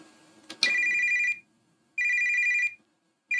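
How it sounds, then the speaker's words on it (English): An old toy phone rings from inside a dusty pink toy box in a Resident Evil game: a clicking pickup, then two long electronic trills separated by silence, with the start of a third at the end. "An old toy phone sits alone in the dusty toy box. It's ringing."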